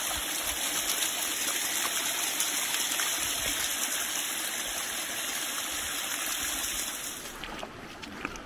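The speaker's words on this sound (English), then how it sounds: "Just paddling my way through this shallow little bit while the tide retracts out." Feet wading through shallow seawater on a beach at low tide while collecting Jurassic fossils; a steady, close rush and slosh of water fills the whole stretch and eases slightly near the end.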